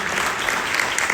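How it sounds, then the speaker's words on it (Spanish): A church congregation claps loudly together in a short, dense burst of applause. "Den una fuerte palmas al Señor con vida."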